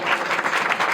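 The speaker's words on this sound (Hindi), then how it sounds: "बच्चों से निवेदन है जोरदार तालियां बजाएं" Children at a school event applaud the chief guest, a steady, dense wash of clapping that stays loud and even for the whole second with no voices over it.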